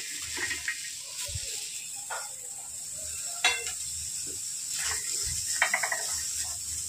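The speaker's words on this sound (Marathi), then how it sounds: "इथे मी गॅसवर लोखंडी तवा ठेवलेला आहे, त्याच्यामध्ये मी आता कांदा भाजून घेते" Onion roasting on an iron tawa over a gas flame, a faint, steady sizzle and hiss with a few light clicks and taps. No one speaks.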